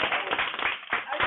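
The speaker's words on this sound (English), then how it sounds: "Get better clapping than that." Brief audience clapping in a classroom setting, a quick burst of many hands with uneven rhythm, fairly close and moderately loud, with some voices mixed in.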